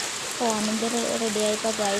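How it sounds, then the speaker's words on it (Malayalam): Heavy rain pours in a steady, close hiss, with a voice speaking over it. "നോക്കി ഗൈസ്, നല്ല മഴയാണ് കേട്ടോ"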